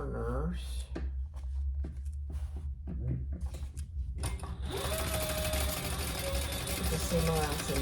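Sewing machine stitching the bottom gusset corners of a retro sling bag, heard as short bursts of rapid mechanical whirring at first, then a longer steady run over a hum.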